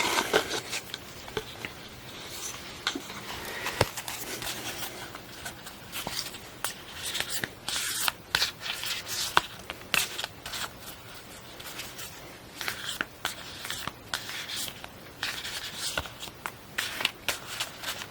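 Steady riffling and shuffling of tarot cards, soft papery slaps and rustles repeating close up for a long stretch, with no voices.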